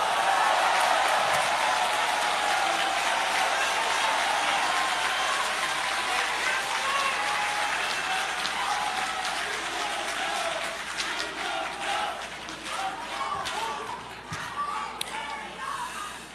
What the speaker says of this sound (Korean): 여기 우리 경남의 의원님들께 모두 박수를 쳐주십시오.